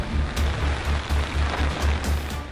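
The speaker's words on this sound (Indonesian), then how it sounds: "Hujan pun turun." Steady rain falls on a forest road at dusk as a dense, even hiss, with a soft low rumble pulsing underneath throughout.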